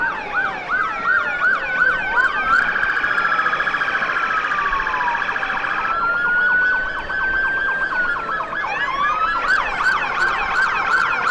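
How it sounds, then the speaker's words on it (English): Emergency vehicle sirens at the 2021 Morristown Christmas Parade, several loud wailing and yelping sirens overlapping close by, with steady horn-like tones and rapid yelp bursts near the end and no talk. "there's no real reason why we've got to talk over the sirens"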